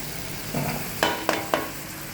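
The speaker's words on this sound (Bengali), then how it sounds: "মিক্সড ফ্রাইড রাইসের জন্য প্রয়োজনীয় এই ভেজ সবজি গাজর, বিনস এবং ক্যাপসিকাম ভেজে নেব" Carrots, beans and capsicum stir-frying in a wok: a faint low hiss with three short, sharp stirring scrapes spaced about a quarter second apart.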